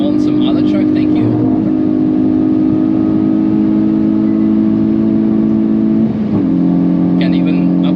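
A Hyundai i20 N hot hatch at speed on the Nürburgring track, its engine holding a steady loud drone from inside the cabin, with faint higher noises near the start and end.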